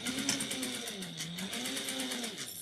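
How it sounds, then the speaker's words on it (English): Sewing machine back stitching a 3/8-inch seam at the start of a shoulder bag, running at a 3.5 stitch length; a steady, close whirring motor with a rapid needle rhythm, alone for under three seconds. "3/8 of an inch back stitch at the beginning and end"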